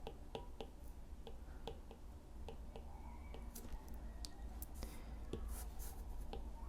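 Writing during a lecture on Gibbs sampling: faint, evenly spaced taps and clicks of a pen or chalk on a board over a steady room hum, with no talk.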